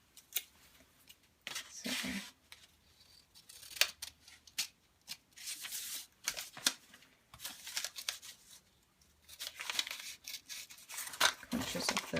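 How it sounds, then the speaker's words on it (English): Scissors snipping into paper flaps while folding an origami bow: a run of short, crisp cuts and rustles in irregular bursts, close and fairly quiet, with a brief spoken word. "I'm going to cut into these flaps right up to the tip there"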